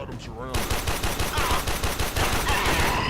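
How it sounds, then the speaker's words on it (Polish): Rapid automatic gunfire in the sci-fi shooter Warframe: after a brief quiet opening, a dense, loud stream of shots rattles on steadily and close-up for the rest of the clip. "Strzelają."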